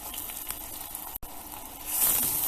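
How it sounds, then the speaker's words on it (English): Finely chopped onion, one medium, frying in a saucepan of three tablespoons of heated extra virgin olive oil, a steady bright sizzle that swells louder toward the end. "in a saucepan, add 3 tablespoons of extra virgin olive oil and let that heat up. Add in chopped onions, finely chopped."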